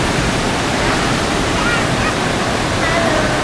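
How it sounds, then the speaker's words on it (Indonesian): Telun Berasap waterfall pouring down with spray that rises like smoke, a loud, dense, unbroken roar of rushing water close by, heard alone without talk. "Kita bisa menikmati keindahan air terjun ini pada pondok-pondok yang disediakan, serta melihat fenomena asap dari percikan air."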